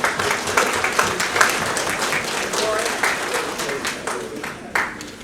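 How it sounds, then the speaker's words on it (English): Applause fills the room at a residents' association meeting, a steady close patter of many hands that swells and fades, with a few sharper claps near the end. "each of you all should give all of your comrades a round of applause"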